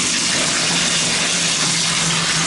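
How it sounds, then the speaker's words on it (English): Water gushes steadily from a bathtub tap that has just been turned on, a loud continuous broadband rush with strong pressure and no talk. "I'm just going to turn on the water."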